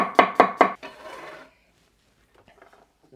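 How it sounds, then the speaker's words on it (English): Knife slicing leftover vegetable sticks on a cutting board for sandwiches: three sharp, evenly spaced chops up close, a short scraping rub, then a pause and a few faint light taps. "the bits I have left over, I'll just slice them up for some sandwiches"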